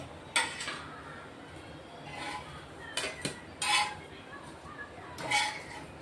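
Crisp toasted bread slices lifted off a pan and set onto a plate, giving a few scattered clinks and scrapes of utensil and dishware, fairly close and moderately quiet, with a pause between the bursts.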